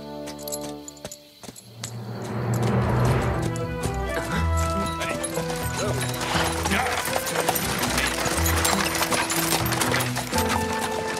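Cartoon horses' hooves clatter along in a busy rhythmic patter beneath music, with jingling metallic sounds and a voice calling out briefly.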